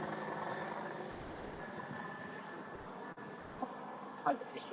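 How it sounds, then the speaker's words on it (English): Helicopter circling overhead at a veterans' memorial, a steady distant rotor drone running continuously beneath ambient outdoor noise. "Helicopter circle."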